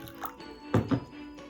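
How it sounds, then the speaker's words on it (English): Water poured into flour to make a thickening mixture for Ghanaian coconut ice cream: a brief, close liquid splash with two quick gurgling pulses and a few faint drips. "So I'm going to pour some water in here."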